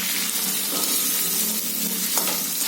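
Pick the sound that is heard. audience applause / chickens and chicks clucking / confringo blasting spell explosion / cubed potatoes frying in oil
cubed potatoes frying in oil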